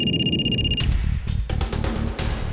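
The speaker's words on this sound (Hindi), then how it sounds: "सर, आशा के ससुर का फोन है।" An electronic telephone ring trills steadily for under a second, then cuts off as music with a thumping beat continues underneath.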